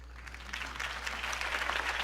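Crowd applause for Harvey Dent's campaign speech in the Batman Telltale video game, a steady wash of many hands clapping that swells slightly and holds, moderately distant and without voices.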